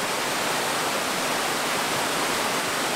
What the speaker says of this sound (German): So, jetzt sind wir beim nächsten Wasserfall.